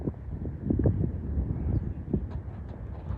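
Gusty wind buffets the microphone on a rocky ridge, low rumbling blasts rising and falling in irregular pulses, moderately loud and close.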